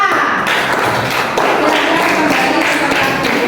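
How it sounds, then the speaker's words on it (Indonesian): A classroom of students claps for a student group after their poster presentation at a teacher-training practice lesson, a dense, steady patter of many hands at close range lasting a few seconds. "Tepuk tangan untuk kelompok A."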